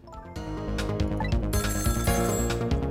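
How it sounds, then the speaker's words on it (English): Telephone ringing in the video game Ghost Trick, a steady repeating electronic ring heard alone at moderate loudness over layered game music, continuing throughout. "Phone is ringing."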